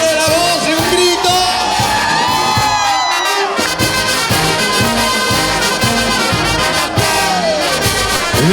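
A large crowd at a band's 47th anniversary concert shouts, whoops and cheers loudly and continuously, with a steady thumping beat underneath.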